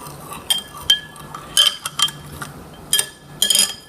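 A utensil clinks and scrapes against a bowl as donut batter gets mixed, giving a string of sharp, irregular taps and stirs, close and fairly loud, with no talking.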